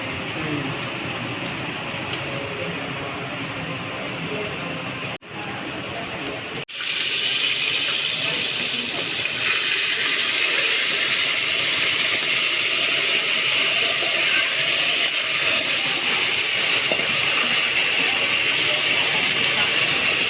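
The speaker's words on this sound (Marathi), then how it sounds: "मटण उकळायला लागलेलं आहे." Mutton boiling hard in a pot with rendered fat and oil, a steady broadband hiss and bubbling that swells louder after a brief break and then holds constant, close up, with no talking.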